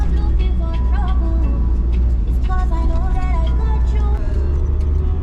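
A vehicle overtakes on a road, heard from inside as a steady, loud engine drone and road rumble throughout, with faint voice-like tones above it.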